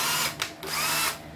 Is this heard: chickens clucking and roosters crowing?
no